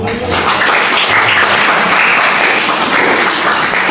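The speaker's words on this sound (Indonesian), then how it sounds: "Tepuk tangan dong." Students in a classroom during an Arabic grammar lesson applaud together, a loud, continuous wash of clapping that fills the whole stretch after a brief voice at the start.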